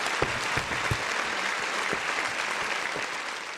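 Live audience on a sports talk show breaks into loud, sustained applause, a dense wash of many hands clapping close by, with a few sharper individual claps standing out.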